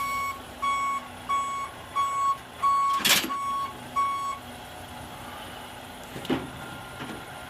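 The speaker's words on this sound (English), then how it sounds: "So I've just pulled my truck up to my trailer" A truck backs up toward a trailer, its reversing alarm beeping steadily about twice a second under a low engine idle, with a sharp metallic clank midway and a couple of fainter knocks near the end.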